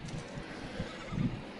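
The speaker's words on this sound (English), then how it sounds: "But he is a fast horse." A horse in the video game Red Dead Redemption 2 Online whinnies and neighs while its hooves clip-clop, all moderately loud and close, over a brief stretch.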